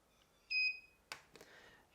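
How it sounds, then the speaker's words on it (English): An Oz Smart Blinds motor gives a single short electronic beep after its stop button is held down, followed by a few faint clicks in a quiet room. "Hold the stop button for 5 seconds till you hear the beep."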